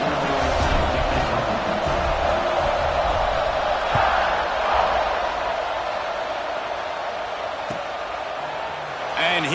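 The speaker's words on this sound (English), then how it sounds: "this crowd is buzzing after that last score" Stadium crowd in a college football video game, Alabama versus Ole Miss, a steady dense roar of buzzing fans filling the background throughout, with a commentator talking over it.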